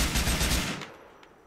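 Rapid automatic AK rifle fire in the video game GTA IV during a snowstorm mission, a loud burst of close shots that lasts under a second and then cuts off into a fading tail.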